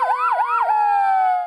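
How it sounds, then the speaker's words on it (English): A fire truck siren of the kind used by the Hampton Bays Fire Department in New York wails loud and close, with a few rapid rising-falling yelps that settle into a steady held tone before cutting off. "These are the same sirens used by the Hampton Bays Fire Department in New York 19 years ago today at ground zero."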